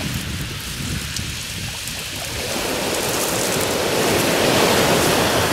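Sea surf washes onto the shore at Qixingtan beach, a steady broadband rush of waves that swells a little louder toward the end, with no voices over it.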